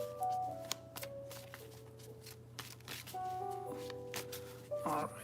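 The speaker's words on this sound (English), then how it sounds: "I'll pull a single tarot card and tell you my intuitive message" Tarot cards are shuffled and drawn from the deck in soft, brisk riffles and slides at close range, with faint background music tones and a low steady hum underneath.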